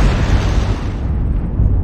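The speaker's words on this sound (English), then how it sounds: "Warning, incoming missile." A loud, sustained explosion rumbles in a military video game as an incoming missile strikes, a dense roar with a heavy low end that stays steady and then fades slightly in its upper range.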